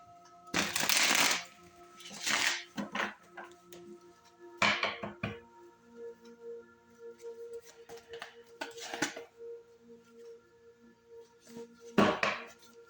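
Cards riffle and snap in several quick bursts separated by pauses, crisp and close, with faint clicks and handling noises in between.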